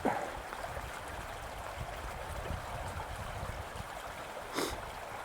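Beaver Creek in Alaska flowing wide and steady, a continuous broadband rush of moving river water with small gurgles, close and even throughout with a brief brighter splash near the end.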